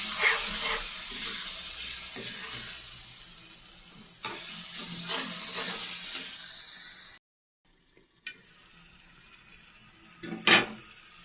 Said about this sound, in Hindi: अदरक लहसुन भी इसके अंदर भून गया है।